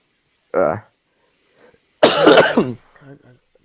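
A short throaty cough, then a louder burst of harsh coughing close by, followed by faint rustling.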